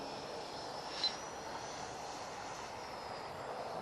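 A radio-controlled model jet flies overhead at a model flying club, giving a steady, faint, airy engine roar that stays even throughout, with no talking.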